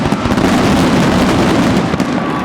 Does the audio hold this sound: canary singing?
no